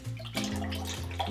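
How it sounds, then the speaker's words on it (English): Short grain sushi rice is rinsed in water, a brief splashing and trickling swirl heard up close with no talking. "Basically just going to rinse the rice until the water becomes clear."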